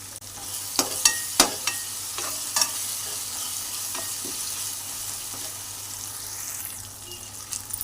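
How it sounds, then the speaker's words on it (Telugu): Tomatoes, coriander and green chillies frying in a pan, with a soft steady sizzle and several sharp stirring scrapes early on, fairly faint and without talk. "ఒక 3 నిమిషాలు బాగా ఫ్రై చేసుకోవాలి."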